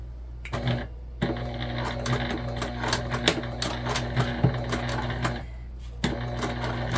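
A sewing machine top stitches a pocket on a small sewn pack, a steady close mechanical whir that runs continuously with brief pauses near the start and end, and no talking.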